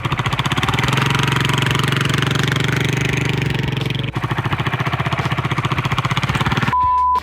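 A motorcycle engine ridden by a first-time rider being told to give more gas runs loud and steady with a throbbing rumble, dips briefly, then carries on before cutting off near the end.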